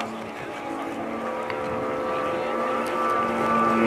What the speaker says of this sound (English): Our soloist, coming from the opposite direction with an airspeed of over 250 knots, will now fly through this tunnel.